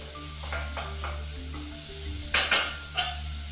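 Thinly sliced onion sizzles softly in a pan over low heat while being stirred, with a low steady hum underneath and a few sharper scraping strokes toward the end.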